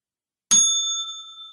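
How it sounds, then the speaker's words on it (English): A single bicycle-style bell ding rings out sharply and loud, then its bright tone lingers and slowly decays on its own. "Ring the bell."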